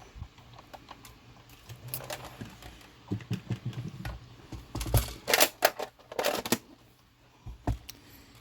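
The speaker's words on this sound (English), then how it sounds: "I'm using my iCrafter machine here, and I'm just running it through, just cranking it through, one crank" An iCrafter die-cutting machine used for letterpress is hand-cranked in a single pass, giving a quiet run of clicks and mechanical rattles that build into louder, denser bursts toward the end.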